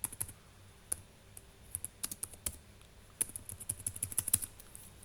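Fingers typing on a computer keyboard while writing HTML code, quiet irregular clicks in short bursts that grow quicker and denser toward the end, close and alone.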